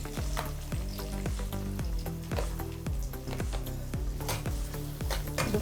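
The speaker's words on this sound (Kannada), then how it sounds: "ಈಗ ಎಣ್ಣೆ ಕಾಯ್ದಿದೆ ಓಕೆ ಆನಿಯನ್ ಹಾಕೋಣ" Onions frying in hot oil in a pan for an egg ghee roast, with a steady close sizzle throughout and repeated stirring scrapes at a regular rhythm.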